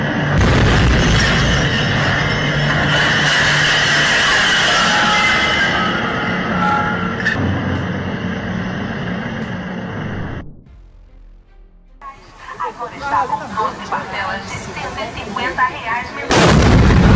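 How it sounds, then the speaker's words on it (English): A massive roaring explosion in a harbor rumbles on for several seconds, dense and loud, then fades briefly before crackling, rolling booms and debris noise return. "the explosion erupted like a massive fireball, throwing the entire harbor area into chaos"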